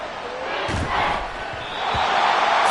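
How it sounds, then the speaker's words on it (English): Stadium crowd roar in an American football video game, Steelers versus Texans divisional round, swelling loudly and steadily with thumps and bursts of noise rising near the end. "This crowd turning up the decibel level."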